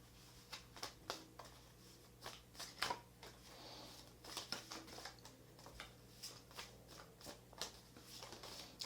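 Tarot cards are shuffled by hand in a series of quiet, crisp riffling and slapping bursts at an irregular rhythm, close and without talk.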